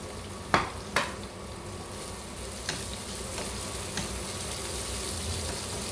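Onions cooking in a pan with garlic, caramelizing over the heat: a steady faint sizzle runs throughout, broken by a few sharp utensil clicks near the start and later light taps.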